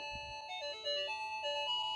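A tinny electronic jingle plays a short, bouncy melody of beeping tones from a toy's car button, close and moderately loud.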